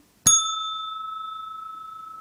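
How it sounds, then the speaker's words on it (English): A single bell struck once, sharp and close, leaving a clear pure tone that rings on steadily with a slight pulsing shimmer in otherwise quiet surroundings. "So ring the bell"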